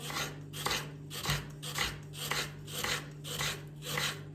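A knife chops an onion rhythmically on a board, roughly steady strokes about every half second, close by with a low hum underneath.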